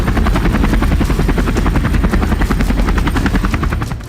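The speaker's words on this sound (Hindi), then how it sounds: "रूस की तरफ से K-52 जैसे लड़ाकू हेलीकॉप्टरों को भी एयर शो में रखा गया" Russian Ka-52 attack helicopter at an air show, its rotor blades thumping in a fast steady beat over a loud, continuous engine roar, close and with no talk.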